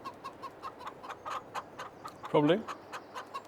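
Chickens cluck in short, repeated calls at a farm, with one louder, drawn-out squawk partway through, while a person speaks briefly nearby.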